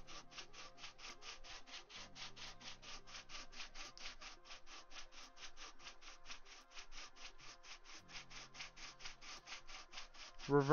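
A wooden longbow is sanded with sandpaper in fast, even back-and-forth strokes, a close rhythmic rasping repeated dozens of times without pause.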